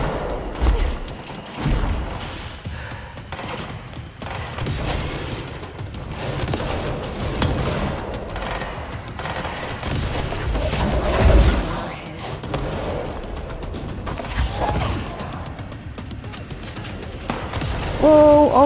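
Gunfire from enemy snipers in the video game Control, bursts and thuds scattered across a busy battle mix, fairly loud, with occasional voice in the background.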